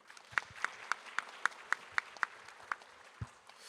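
Sparse, evenly spaced claps at an ocean forum session in a grand ballroom, about ten distinct slaps in a steady rhythm, faint and somewhat distant, fading out after a few seconds.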